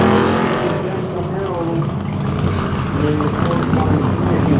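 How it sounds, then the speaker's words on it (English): A Chevrolet IROC-Z runs an autocross course at the Goodguys Dallas 2022 show, its engine a steady, loud drone with shifting pitch, mixed with voices talking throughout. "Got an IROC Z running right now."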